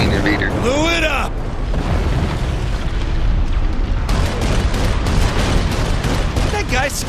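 Video game Saints Row 4 explosions and heavy gunfire, a loud sustained barrage of booms and blasts, with voices talking over the chaos.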